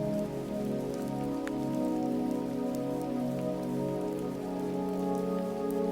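Steady rain pattering on a surface, even and continuous with no voices.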